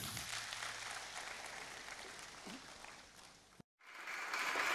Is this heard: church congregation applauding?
yes